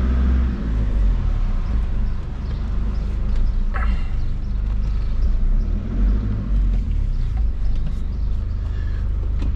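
A car's engine rumbles low and steady from inside the vehicle while it is being parked, a continuous close drone with slight shifts and no talking.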